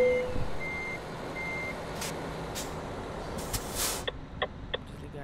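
An electric Renault truck in Euro Truck Simulator 2 sounds its reversing alarm, a steady string of evenly spaced beeps. Brief hissing bursts and a few sharp clicks follow near the end.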